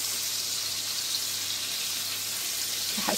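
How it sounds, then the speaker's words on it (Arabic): Seasoned, unsalted chicken fries in oil in a pan for fettuccine chicken alfredo, giving a steady close hiss and sizzle throughout with no talking. "رح استناه لحتى يتقلى"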